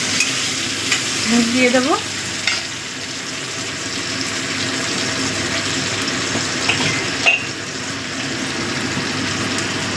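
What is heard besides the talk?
chopped tomatoes frying in oil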